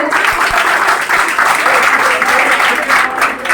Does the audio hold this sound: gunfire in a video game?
no